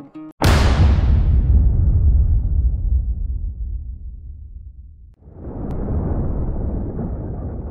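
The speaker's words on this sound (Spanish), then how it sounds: "la explosión de Beirut" The 2020 Beirut port explosion: a single massive blast bursts out, then a long rumbling roar that slowly fades, followed by a sustained broad noisy rush like a distant shockwave.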